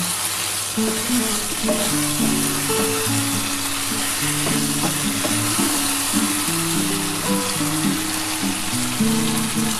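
Mutton fat and spice-coated meat fry in a pan, a loud, dense, continuous sizzle up close, with a few steady tonal hums running beneath it.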